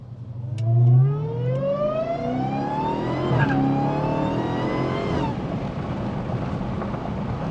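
A Dodge Charger Daytona Hellcat accelerating on the road, its engine note climbing steadily in pitch through a long pull before the throttle lifts and the car coasts with a lower drone.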